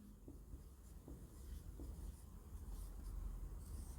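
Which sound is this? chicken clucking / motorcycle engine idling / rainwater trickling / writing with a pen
writing with a pen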